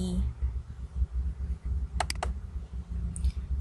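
A file name is typed on a computer keyboard, with a quick burst of several close key clicks over low room hum, then a faint click afterward.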